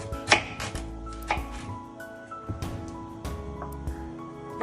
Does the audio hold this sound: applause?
no